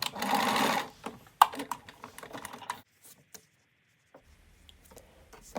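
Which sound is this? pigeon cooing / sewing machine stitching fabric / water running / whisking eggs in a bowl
sewing machine stitching fabric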